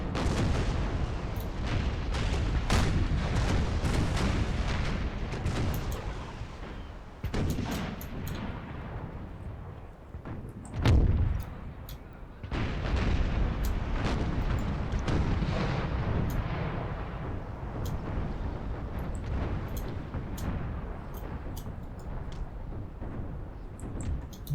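Cannon fire from Empire: Total War ships shooting chain shot, heavy booming volleys rolling one after another in a dense, continuous barrage, with a brief lull near the middle before the pounding resumes.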